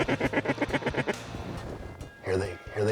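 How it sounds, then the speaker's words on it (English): A run of rapid, rhythmic duck quacks close by, then a pause and a couple more nasal calls, with a voice speaking near the end. "I heard my first mallards quacking"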